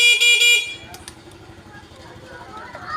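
A loud, sustained electronic reverse horn tone from a vehicle sounds for about half a second, followed by engine noise and low background chatter.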